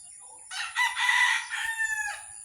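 Native chickens on a home farm, with a rooster letting out one full crow that rises and holds before trailing off, close and fairly loud, with no talk over it.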